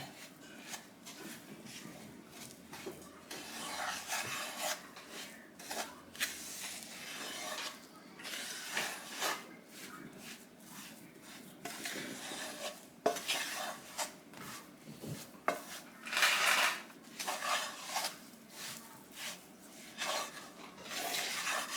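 Chocolate chip cookie dough mixed by hand in a bowl: repeated soft scraping and clinking strokes of a utensil, fairly quiet and close, with no talking.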